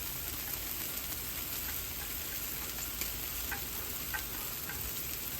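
Smash burgers, bacon and onions frying on a Blackstone griddle, a steady dense sizzle with faint crackles and ticks, close and continuous.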